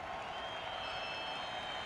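A crowd applauds a Spanish team at a Red Bull Flugtag flying event by the water: dense, even clapping and crowd noise heard from a distance at low level, with no clear voices.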